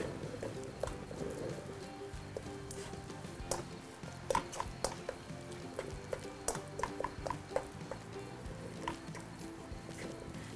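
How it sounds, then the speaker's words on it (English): Ground turkey browns in a pan with spices being stirred in. A faint steady sizzle runs throughout, with scattered small taps and scrapes of the utensil against the pan, quiet and close. "just go ahead and brown the meat and stir in the spices"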